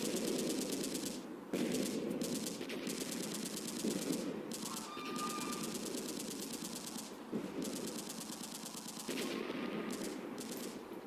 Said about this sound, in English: All I could hear was gunfire and bombs going off in the distance